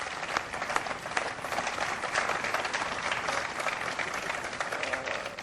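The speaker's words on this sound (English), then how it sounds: "Please give them a big round of applause." Sustained audience applause at a presidential bill-signing ceremony for a tobacco regulation bill, steady dense clapping from a sizable crowd lasting throughout at moderate level.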